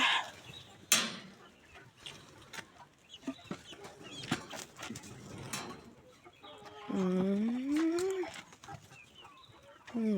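Chickens cluck and squawk nearby in scattered bursts in a vegetable garden, with a drawn-out call rising midway among the quieter farmyard chatter.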